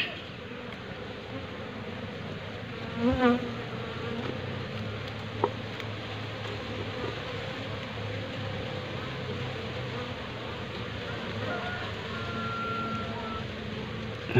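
Honey bees buzzing in a steady, continuous hum close by, with a brief louder pass and a faint tap partway through.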